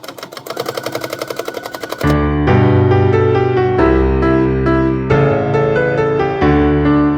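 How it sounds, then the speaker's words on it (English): A sewing machine stitches around the edges of fabric envelopes for Christmas candy boxes, a fast, even run of needle pulses for about two seconds before loud music takes over. "I'm just going to take and sew right around the edge on all four of these envelopes"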